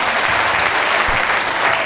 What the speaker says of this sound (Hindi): जिन लोगों के समझ में आई वो तालियां बजा के बता दें।